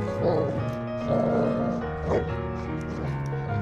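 Dogs Odin and Gotham tugging against each other in a game of tug of war, giving off loud growls and strained whimpering yips at close range, with a voice talking over them.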